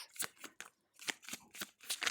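Close, quick riffles of tarot cards being shuffled in several short bursts, with a brief pause partway through.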